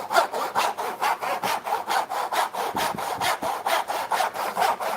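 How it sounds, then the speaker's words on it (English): Tyzac tenon saw cutting through a wooden board, steady rhythmic back-and-forth rasping strokes, close and fairly loud, roughly four strokes per second with no talking. "This is a Tyzac tenon saw."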